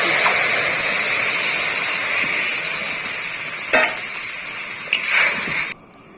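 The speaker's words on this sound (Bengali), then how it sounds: "তো দুধটা পুরোটাই দিয়ে দিচ্ছি" Cow's milk poured into a hot pan of ghee-fried semolina, giving a loud, close, continuous hissing rush of steam with a couple of brief stirring knocks before it cuts off abruptly.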